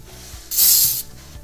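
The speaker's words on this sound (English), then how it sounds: "We'll clean the brake pads." Brake cleaner sprayed onto snowmobile brake pads on a Ski-Doo Rev Gen 4, one loud close hissing burst of about half a second standing out over faint background handling.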